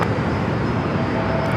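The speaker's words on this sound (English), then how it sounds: "American A321 arriving on the 27, coming up from Charlotte" An American Airlines A321 jet arrives at San Diego airport from Charlotte, a loud, steady broadband roar of engine and air noise that holds without a break.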